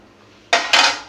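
A metal lid is set onto a cooking pot of chicken in ghee, making two quick, close, ringing clanks in a row, with nobody talking.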